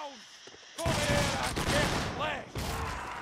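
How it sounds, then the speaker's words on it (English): A burst of crackling gunfire and a sudden blast rip through a Mount and Blade: Warband English Civil War battle, loud and layered, with a commentator talking underneath the fighting. "And a massive explosion."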